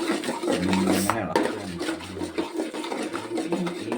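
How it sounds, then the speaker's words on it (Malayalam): A spoon stirs papaya halwa in a pan, scraping and knocking against the metal in a loose rhythm while someone talks over it. "എന്നിട്ട് നല്ലതുപോലെ ഇളക്കി കൊടുക്കണം നന്നായിട്ട് ഇളക്കണം"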